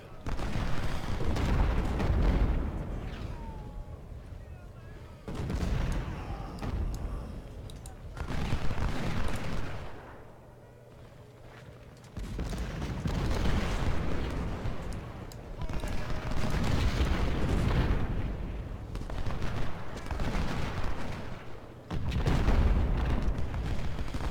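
Massed musket and cannon fire from the video game Ultimate General: Civil War rumbles in long dense volleys and booms, swelling and fading with brief lulls, loud throughout.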